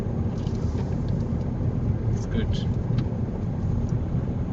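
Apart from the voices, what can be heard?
car driving through a residential neighborhood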